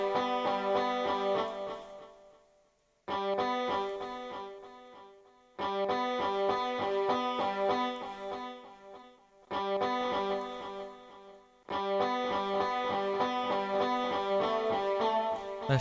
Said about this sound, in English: So you have an echo